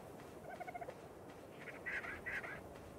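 Chickens in the mobile video game Ark Survival cluck quietly in a few short, rhythmic bursts, a pair of faint call sequences heard over soft ambient game noise without speech.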